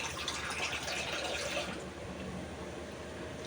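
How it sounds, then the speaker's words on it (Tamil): Water pours into a pot of green chilli and ginger on the stove for fish curry, with a bubbly, splashing fill that softens partway through into a lower, steady trickle. "கொஞ்சம் தண்ணி ஊற்றிக்கலாம்."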